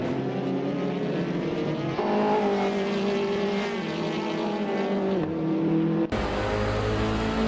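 Onboard cockpit engine noise from race cars lapping Sonoma Raceway, a loud, continuous high-revving whine with pitch changes as the car shifts and brakes, ending in an abrupt cut to a different, harsher engine tone.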